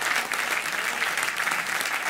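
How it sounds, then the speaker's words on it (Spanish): Strong applause from worshippers in a Sunday church devotional service, a continuous loud wall of clapping with slight swells, no voices standing out. "dele un gran aplauso al Señor"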